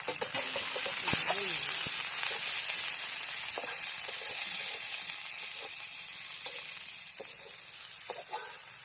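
Garlic and ginger frying and being stirred in a pan at an outdoor village-style cooking spot, a steady loud sizzle with occasional scrape and clink of the spoon throughout.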